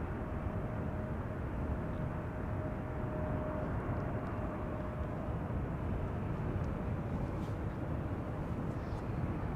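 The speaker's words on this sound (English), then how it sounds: "a batch is arriving from the east and they are all going to pass overhead Schiphol Airport probably" Arriving airliners pass over Amsterdam Schiphol Airport as a steady, broad, distant roar of jet engines, constant and unbroken throughout with no talk.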